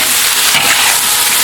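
Fish maw and roe stir-fry with chopped chili in a hot wok, a loud close continuous sizzle with stirring and scraping, no voices.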